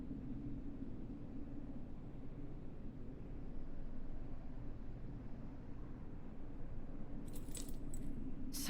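Keys jangle in the video game Martha Is Dead, a bright metallic rattle arriving near the end over a steady low ambient rumble, brief and fairly close.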